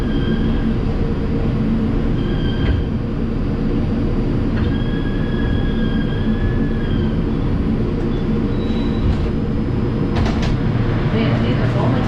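An R142 subway car on the 5 Express in New York rumbles steadily along the track, with faint high wheel squeals over a constant low roar.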